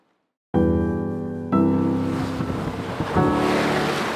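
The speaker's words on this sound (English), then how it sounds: "The sea is really challenging." Rough sea surf and waves crash around a sailing boat in loud, continuous bursts, with heavy wind buffeting the microphone and a fresh surge of water arriving partway through.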